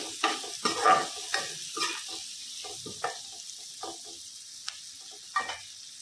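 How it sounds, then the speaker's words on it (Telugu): Onions frying on high heat with turmeric in a pan while being stirred, a steady close sizzle broken by repeated scraping stir strokes, with no voices. "ఉల్లిపాయని చక్కగా హైలో పెట్టే వేపేసుకున్నామండి."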